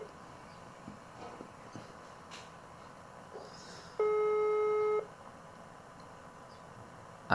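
A WhatsApp call fails to connect, leaving a single steady electronic calling tone lasting about a second over quiet room hiss, with faint clicks before and after.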